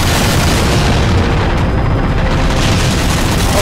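Rockets explode in Halo 4 Spartan Ops on the Valhalla map, a loud, saturated, continuous roar of blasts filling the whole moment with no talk.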